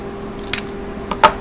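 Scissors trimming a folded paper craft piece meant to fit under a lid, giving two short, crisp snips a moment apart against a quiet background.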